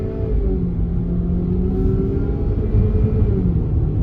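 A 2019 Ford Transit long-wheelbase van's engine drones low and steady from inside the cab, its pitch climbing as it accelerates, with a slight lift near the end that could be a gear change.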